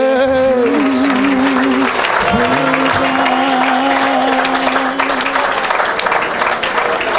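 A church congregation claps and cheers in acclamation of Jesus during a worship service, loud and continuous throughout, with sustained singing tones running beneath the dense applause.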